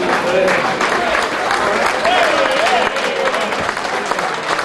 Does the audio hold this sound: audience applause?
yes